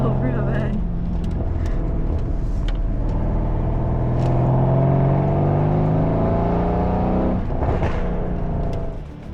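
A rebuilt, previously wrecked Mercedes-AMG C63s engine drones steadily while the car drives, a loud continuous hum and rising tone with shifting pitch, and a voice talks over it.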